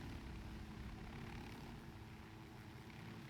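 In the video game Ghost Recon Wildlands, a helicopter in flight gives a steady, loud, droning rotor and engine roar that fills the whole stretch without letup, with no talking over it.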